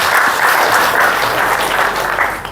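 An audience at a spiritual discourse claps together in a brief, loud, dense burst of applause that stays even for a couple of seconds before easing off slightly.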